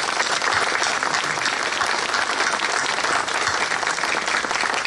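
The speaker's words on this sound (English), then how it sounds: "Please give Jeffrey a big round of applause." Sustained, dense applause from an audience at a Jadotville siege memorial honouring a veteran sergeant, steady and full throughout without letting up.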